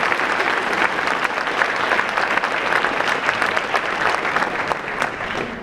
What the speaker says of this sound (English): Let's give Dr. Mazama a big round of applause.